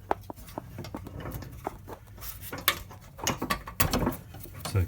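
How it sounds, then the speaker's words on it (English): A pin is pulled from the front arm of a John Deere D100 series mower deck, giving a quiet series of small metallic clicks, taps and rattles at close range. "All you gotta do is take that pin out"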